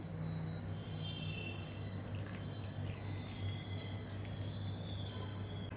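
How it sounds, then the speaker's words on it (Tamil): Water trickling and splashing steadily into a pot for radish sambar for several seconds, faint against a low background hum. "இதில் கொஞ்சம் தண்ணி ஊற்றலாங்க."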